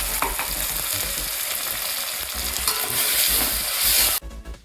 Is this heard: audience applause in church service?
no